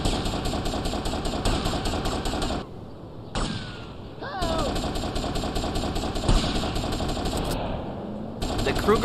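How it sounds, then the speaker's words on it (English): Kruger assault rifle in GTA Vice City, modeled on the Mini-14, firing rapid sustained bursts with a couple of short pauses, loud and dense over game noise and a brief faint voice. "Oh, the Kruger, my favorite assault rifle in the game"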